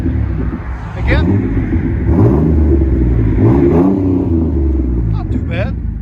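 A 2001 Chevy S10 pickup with a 4.3L V6 and Magnaflow Magnapack dual exhaust rumbles and revs in several rising bursts up close, with people talking over the engine.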